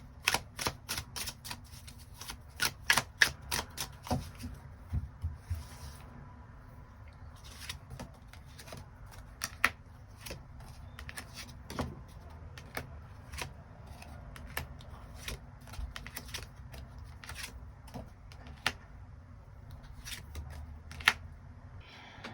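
Tarot cards are shuffled and drawn close up, a run of sharp, crisp card snaps and flicks, rapid at first, then sparser, over a quiet room hum with no talking.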